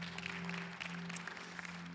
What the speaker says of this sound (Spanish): Give a big applause to the Lord.